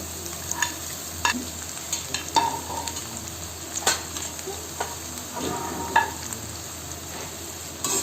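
Finely chopped green beans, capsicum and carrot being sautéed together for veg fried rice: continuous hissing sizzle with frequent spatula taps and scrapes against the pan, close up and with no speech.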